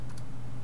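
Computer keyboard keys tapped while entering a terminal command on a Linux Mint system, a few quick soft clicks over a steady low hum.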